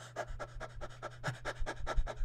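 A voice imitates a dog's panting during a calming breathing exercise, with quick, breathy huffs in a steady rhythm, about a dozen in a row, close and moderately loud.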